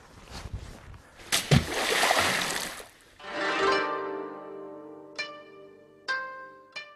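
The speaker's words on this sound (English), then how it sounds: "I like it actually if the log has sort of a decent impact with the water, just to vibrate it and quote unquote shock it a bit." A shiitake mushroom log is dropped into water on a Vermont farm, making a heavy close splash and sloshing, followed by fainter ringing, knocking tones.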